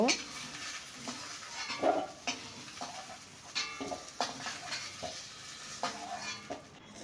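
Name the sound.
stir-frying chicken in a pan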